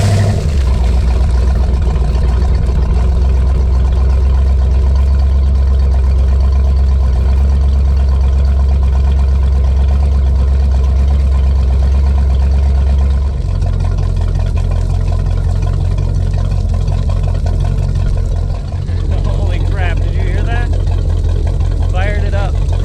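A Ford 351 Windsor V8 with no mufflers fires up and runs with a loud, deep, steady rumble close by, its tone dropping partway through as the idle settles, with a person speaking over it.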